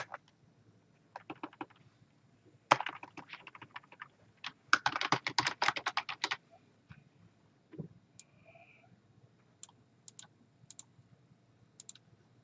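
Someone types a store name on a computer keyboard, giving quiet scattered key taps that build into a quick flurry of clicks before thinning to sparse isolated presses in a silent room.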